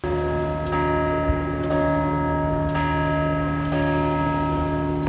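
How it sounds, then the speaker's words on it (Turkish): A large church tower bell, the San Marco bell tower in Venice, rings steadily and loudly on the hour, its sustained ringing tones layered and continuous, with a few faint strikes recurring. "Bunlar her saat başı çanı çalıyorlar."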